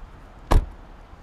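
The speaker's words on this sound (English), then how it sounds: "whenever we open the doors, the windows do adjust, as it is a frameless window" The door of a 2017 Mercedes-Benz CLS 550 four-door coupe opens, and its frameless window adjusts with one short, close thunk that stands out against a quiet background, with no talking.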